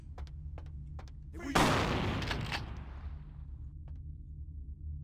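A gunshot in Vampire Bloodlines: a few faint clicks, then one loud blast that decays into a long rumbling tail, followed by a couple more quiet clicks.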